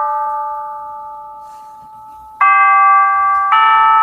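Westminster chimes played by a small electronic gadget, clear synthetic bell-like tones that fade slowly, then two louder sustained chime notes strike in close succession, no talk.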